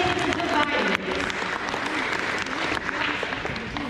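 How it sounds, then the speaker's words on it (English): An elementary school awards ceremony audience claps warmly for two winners, a dense, steady burst of applause from a nearby crowd lasting a few seconds. "Round of applause for these 2."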